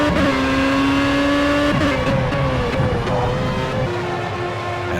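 Race car in Project CARS at Spa-Francorchamps, a loud, continuous engine whine heard from close by, with pitch shifts as the revs rise and drop between gear changes, heading into the pits.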